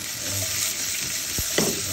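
Onion leeks sautéing in a hot pan, a loud steady sizzle and fry with occasional stirring scrapes near the end, close and continuous, no talking.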